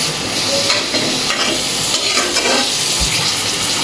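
Drumstick (moringa) pieces and cut potatoes go into a pan of fried spice masala and sizzle loudly and steadily, with stirring scrapes, close up and without speech.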